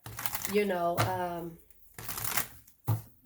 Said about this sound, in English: I'll shuffle to see if it comes out